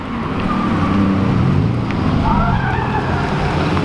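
Race cars driving on an abandoned racetrack, engines droning and shifting pitch as they pass, loud and close with heavy wind buffeting the microphone.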